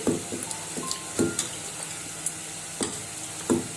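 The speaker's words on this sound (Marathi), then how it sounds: "पिवळी फोडणी करून घ्यायची पहिली" Yellow turmeric tempering for country-style mutton fries in hot oil, a steady sizzle broken by several sharp stirring clinks and scrapes at irregular intervals.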